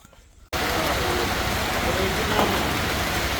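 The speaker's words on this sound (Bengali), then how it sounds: "প্রচুর বৃষ্টি, প্রচুর বৃষ্টি।" Heavy rain pours in Comilla, Bangladesh: after a brief quiet moment, a dense, loud, unbroken roar of rainfall starts abruptly and holds steady to the end.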